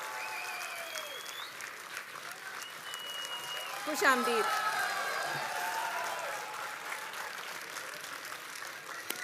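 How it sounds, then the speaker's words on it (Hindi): A crowd at a 2016 poetry show applauds the arrival of poet Kumar Vishwas, a dense continuous wash of clapping at moderate level running under a host speaking over a microphone. "भरपूर तालियों के साथ खुश आमदीद।"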